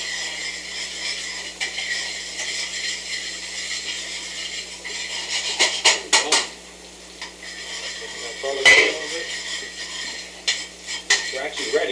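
Garlic stirred and pushed around a hot pan at a deli kitchen, giving soft scraping and clinking of a utensil against metal with a few sharper knocks, under a steady background hiss.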